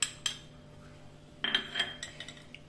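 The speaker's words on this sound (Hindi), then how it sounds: "इन सबको अच्छे से मिक्स कर लीजिए।" A spoon clinks against a bowl while fruit cream with chopped grapes, pomegranate seeds and dry fruits is mixed, with a sharp clink near the start and a cluster of scraping, clinking strokes in the second half.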